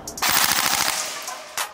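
A Bolt SCAR SC BRSS airsoft rifle, running on an 11.1 V LiPo, fires a rapid full-auto burst of sharp mechanical cracks, then a single louder shot follows after a brief pause.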